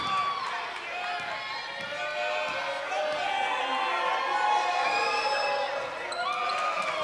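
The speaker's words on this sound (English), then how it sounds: "You can hear the crowd." Crowd noise at a 1995 high school girls basketball game against Woodbridge, a steady broad roar of voices filling the gym for several seconds, with scattered shouts and ball bounces mixed in.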